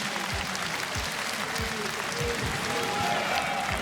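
Crowd applause at the KSW 104 MMA gala, dense sustained clapping filling the arena with a voice over it.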